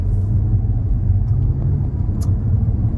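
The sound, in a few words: Audi S5 setting off from parked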